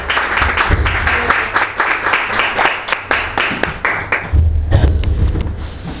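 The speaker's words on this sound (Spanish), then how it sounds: "vamos a invitar a la pastora con un fuerte aplauso, la pastora Silvia Aguirre." Steady, enthusiastic applause from a church women's meeting crowd, many hands clapping loudly and continuously for several seconds with no talking.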